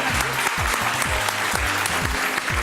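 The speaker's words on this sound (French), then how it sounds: "Allez, on les applaudit très fort" A studio audience at a French television talent show applauds steadily and loudly while a low musical beat plays beneath the clapping.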